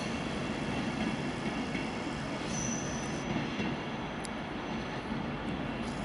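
A Class 390 train at London Euston, bound for Manchester Piccadilly via Crewe, gives a loud, continuous rumble with a thin squeal from the wheels on top, close and steady throughout.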